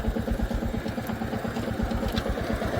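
A motorcycle engine runs nearby on a rough stretch of road work beside the Delhi-Katra Expressway in Punjab, making a steady, throbbing low putter with fast regular pulses and no voices over it.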